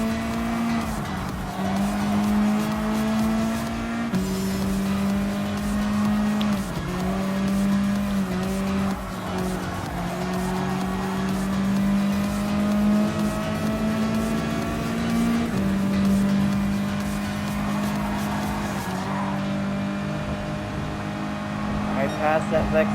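A Mazda Atenza race car in Gran Turismo Sport roars through gear changes, its engine note rising and dropping in repeated shifts, loud and continuous throughout.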